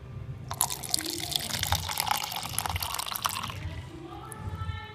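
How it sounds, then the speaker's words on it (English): Tap water runs into a container for a water test, a splashing, bubbling stream for a few seconds before cutting off, with a quieter trickle after. "I'm going to fill up tap water,"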